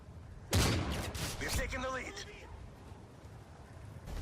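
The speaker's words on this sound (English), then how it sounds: "there is pretty much no limit to the shotgun's range, and the following clip displays that" Shotgun fire in the video game Modern Warfare 3 bursts out as a loud blast followed by rattling shots and fading echoes, with a voice talking over the game.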